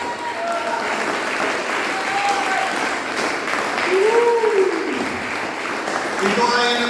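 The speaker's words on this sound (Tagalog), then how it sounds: "O dagdagan natin ang palakpak sa Diyos" Church congregation applauding during a Filipino Sunday worship service, sustained dense clapping throughout with a voice and some cheering faintly under it.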